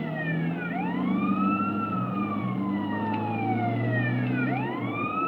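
An ambulance siren wails in GTA San Andreas, rising and falling sweeps repeating over a steady engine rumble, loud and close with no voices.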